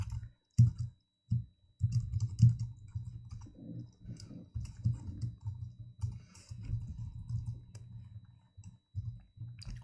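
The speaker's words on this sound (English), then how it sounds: "I'm giving you some time to type as I am" Steady typing on a computer keyboard, close and fairly quiet, with irregular bursts of soft key clicks separated by short pauses and no talking.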